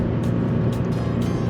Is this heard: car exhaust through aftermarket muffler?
yes